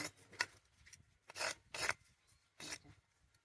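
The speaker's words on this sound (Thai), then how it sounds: "นำมาเอาดินออกจ้ะ ดินติดออกแบบนี้ขุดไป" Soil is scraped off a piece of slate dug up in a backyard garden: four or five rough, rasping strokes, close and distinct, separated by short pauses.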